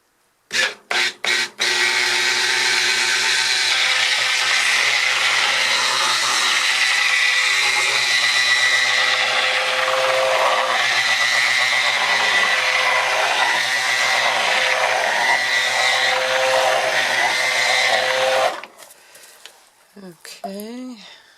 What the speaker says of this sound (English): we're going to stick blend this and stick blend this and stick blend this